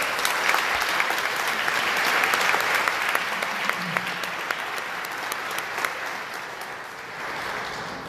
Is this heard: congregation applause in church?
yes